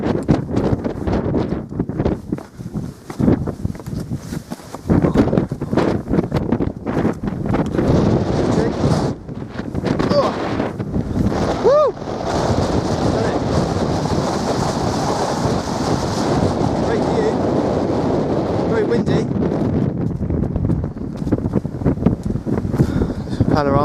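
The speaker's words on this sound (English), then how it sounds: "Very windy." Strong gusting wind roars across the Bodmin Moor summit and batters the microphone with loud buffeting rumbles that rise and fall throughout, with brief faint talk.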